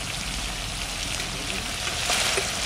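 Village-style duck curry with new potatoes cooking slowly over low heat in a pan, a soft continuous bubbling sizzle, steady and close, with no talk.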